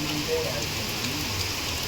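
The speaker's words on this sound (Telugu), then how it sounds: "తెలంగాణ వ్యాప్తంగా విస్తారంగా వర్షాలు కురుస్తున్నాయి." Heavy rain falls steadily across Telangana, a dense, even hiss of drops on surfaces, continuous and moderately loud, with a voice speaking faintly beneath it.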